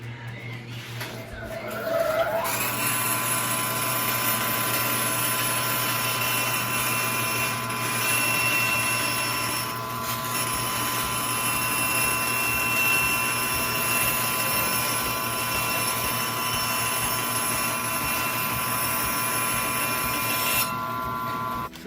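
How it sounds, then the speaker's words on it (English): A bandsaw cuts wooden templates, with a loud, steady motor roar and blade whine. It spins up after a couple of seconds of low hum, holds through the cut, and drops away near the end. "we're just cutting some templates on the bandsaw."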